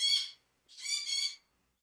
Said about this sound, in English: I'm getting yelled at by a conure.